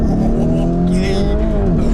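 A car engine runs steadily and loudly at a street racing scene, a continuous rumble with a harmonic drone that shifts gently in pitch, with muffled background voices under it.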